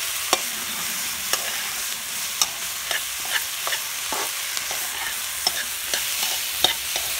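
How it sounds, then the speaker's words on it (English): Onions and other vegetables sweat in a pan for pigtail okra rice, a soft steady sizzle broken by regular light scrapes and taps of stirring, near and unbroken by speech. "So I'm just going to sweat the veg for a few minutes."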